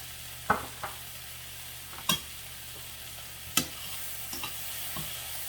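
Shrimp sizzle softly in a frying pan with tomatoes and corn while a utensil scrapes and taps the pan in a few sharp, separate strokes over a constant quiet hiss.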